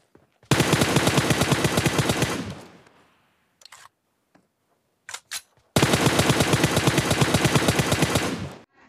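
Automatic gunfire from PUBG Mobile, loud and near: a long rapid burst of about two seconds, a few scattered single shots, then another sustained burst lasting around three seconds.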